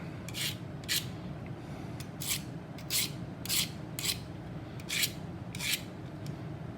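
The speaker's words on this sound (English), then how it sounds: "you could probably definitely hone an edge on a knife here with that" Knife edge honed on a Harbor Freight Gordon multi tool, making about eight short, faint rasping strokes in a fairly regular rhythm over low background noise.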